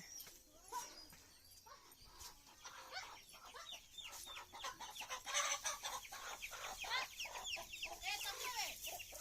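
A hen near a haystack, where she laid an egg, clucks in repeated close, sharp bursts that grow busier and louder over the clip, with faint background voices.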